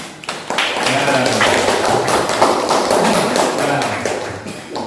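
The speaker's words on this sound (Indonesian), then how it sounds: "Kita kasih aplaus." Classroom applause during an Indonesian Islamic religious education lesson, with a dense burst of many hands clapping together near and loud, sustained for several seconds, with voices mixed underneath.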